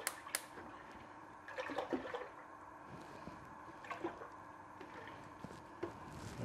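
Two litres of milk pour into a pot for a vanilla slice, giving a steady liquid trickle and gurgle with a few splashy peaks, close by, with no talk.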